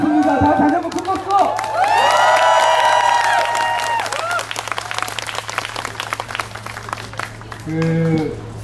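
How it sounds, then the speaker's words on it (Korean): An audience at an event in Gangnam Kyobo Tower breaks into applause with cheering and whoops, the clapping filling the room steadily after voices and a tone ring out at the start. "다시 한번 큰 박수!"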